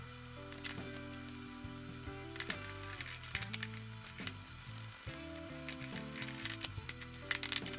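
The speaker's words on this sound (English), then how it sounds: "And this is a particular type of ratchet that has a opening in the middle for" A ratchet clicks in quick bursts while an alternator is put back together, close and crisp with short pauses between strokes, no talking.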